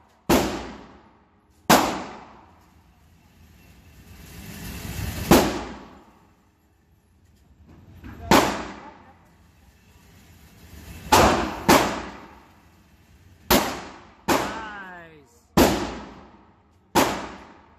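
Target shooting with a handgun: about ten sharp, loud gunshots spaced unevenly a second or two apart, each ringing out with a short decay, no talking between them.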